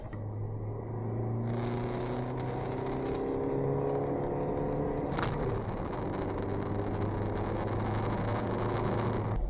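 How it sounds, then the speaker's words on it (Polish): Volkswagen Transporter 6.1 panel van with a 2.0 TDI 150 diesel accelerating hard, engine note climbing in steady rising sweeps with a brief gear-change dip midway, heard loud and close from inside the cab. "Tutaj wklepujemy gaz i momentalnie od razu auto jedzie."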